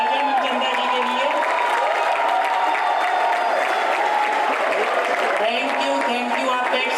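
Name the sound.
standing audience applauding loudly at a school theater production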